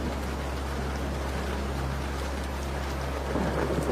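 Heavy rain pours in a dense, unbroken hiss with a low steady rumble beneath, constant and enveloping with no voices.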